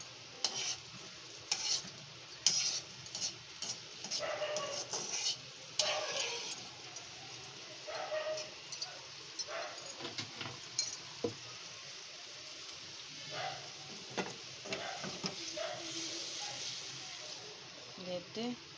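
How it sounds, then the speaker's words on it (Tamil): Millet pongal bubbling in a pot over a high flame, a steady soft boil with crackling and occasional stirring clinks, with someone talking over it. "நல்லா கொதிக்குது."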